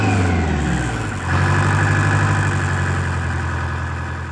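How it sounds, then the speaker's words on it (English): A John Deere 420 garden tractor engine runs steadily at close range with a low, even idle hum that lifts in pitch and loudness about a third of the way in, then holds there. "we're gonna go break out my John Deere 420 with my newly purchased snowblower"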